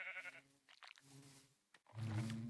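A Minecraft sheep bleats in short, nasal calls, two quieter bursts followed by a louder, fuller bleat at the end, faint and close with no talk over it.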